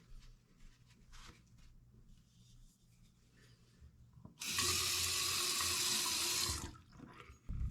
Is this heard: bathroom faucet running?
yes